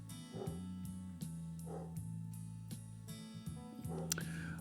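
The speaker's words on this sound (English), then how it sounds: "Wow, that dog is upset." A dog barks in short repeated yips and whimpers at a distance, several sharp bursts spread across a quiet room background with a steady electronic hum underneath.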